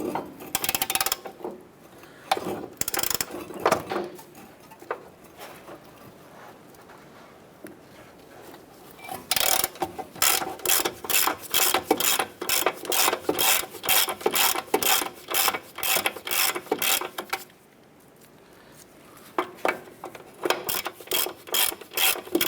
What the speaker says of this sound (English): Using a 17mm socket, I want to get and remove our upper nut here.